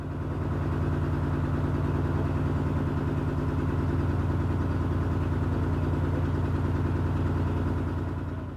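A narrowboat's diesel engine running steadily at idle on a canal, a loud continuous chugging throb with a fast even beat and mechanical clatter, unchanging throughout and close by.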